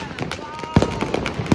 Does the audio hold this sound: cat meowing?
no